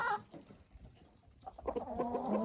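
Six-and-a-half-month-old hens cluck while eating yeast for the first time, starting with a brief call, a quieter stretch of pecking, then a steady run of close, chattering clucks.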